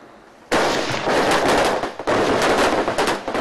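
Sustained automatic gunfire on a military academy shooting range in Finland, loud and dense, starting abruptly after a brief quiet lead-in with a short gap midway before the rapid bursts resume.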